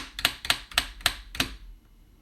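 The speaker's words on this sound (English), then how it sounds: "You can hear my keyboard tap away." Computer keyboard at a desktop, five evenly spaced sharp taps about a quarter second apart, close and clear, then quiet.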